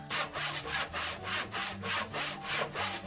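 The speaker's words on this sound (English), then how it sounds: "I'm still sawing, still sawing, still sawing." A hand saw rasps through a small timber sleeper in steady back-and-forth strokes, about three per second, close and continuous.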